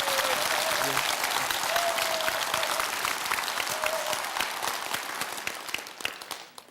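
Sustained studio audience applause as a guest comes out on a Korean talk show, loud at first and gradually thinning out, with many hands clapping in a dense crowd texture.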